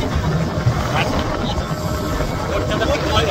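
A speedboat runs across the Maithon Dam reservoir, its engine and rushing wind forming a loud, constant broadband roar, with indistinct voices murmuring underneath.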